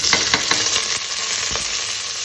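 Onion fries with cloves and cinnamon in a pan, giving a constant crackling sizzle. Quick stirring scrapes sound close by, several early and one later, with no voices.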